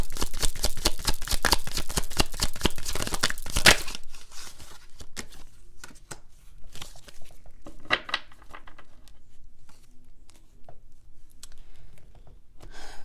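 Tarot cards riffled and shuffled in a quick, dense run of crisp flicks for about four seconds, then sparse soft slaps and light taps as single cards are drawn and laid down, close and alone.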